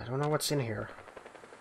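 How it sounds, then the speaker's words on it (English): Gunfire in the Fallout 4 video game crackles faintly as a few quick distant shots, mostly under and just after a man's speech. "I hear gunfire."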